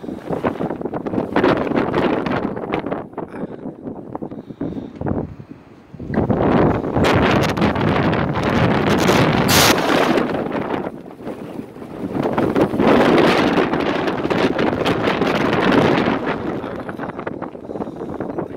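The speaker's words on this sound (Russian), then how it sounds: "Ветер усилился еще больше." Strong, gusty wind roars across the microphone in Yuzhno-Kurilsk, surging in long loud blasts with brief lulls between gusts, buffeting continuously with no talk.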